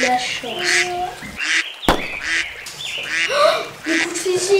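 Wild birds, ducks and geese, honk and quack in a busy overlapping chorus, fairly close and loud, with a sharp crack partway through and a voice speaking among the calls.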